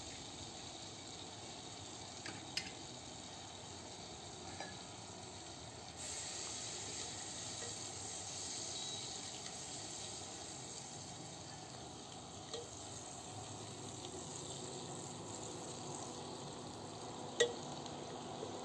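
Onion frying in butter in a home kitchen pan, a steady soft hiss and sizzle running throughout with a few faint clicks, fairly quiet and without talk.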